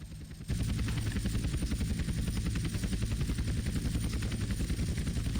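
A helicopter flying in the video game GTA San Andreas gives a steady, loud rotor thumping and engine drone that kicks in abruptly after a quieter moment and holds continuously.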